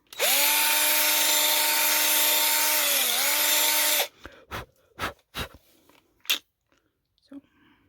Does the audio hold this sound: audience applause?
no